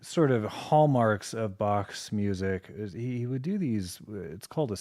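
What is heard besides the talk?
None of the usual background noises is heard.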